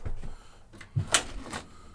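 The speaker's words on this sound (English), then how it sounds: "I don't know if I can pull a drawer out." A metal drawer on a US General double-stack five-drawer tool cart is worked, giving a few soft clunks and a brief sliding rattle, fairly close and moderately quiet.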